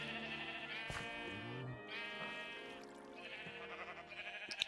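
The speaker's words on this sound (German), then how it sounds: "wir paaren jetzt einfach zwei rote Schafe" Sheep bleat in Minecraft, two red sheep being bred, a series of wavering nasal bleats that overlap and follow each other for several seconds, with no talking.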